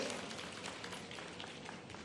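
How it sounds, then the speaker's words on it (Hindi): Faint, continuous clapping from a crowd at a chief minister's event with street vendors, cheering children on, heard distant and even with no voices over it. "जोरदार तालियों से इन बच्चों का एक बार और उत्साहवर्धन।"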